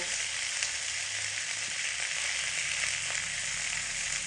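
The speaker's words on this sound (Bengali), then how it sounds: "লবণ দিয়েই হালকা আগে রেখে শিমগুলোকে ভেজে নেব" Broad beans frying in a pan with a little salt on low heat, a dense, steady hiss of sizzling oil filling the whole clip, close and even, with no talking.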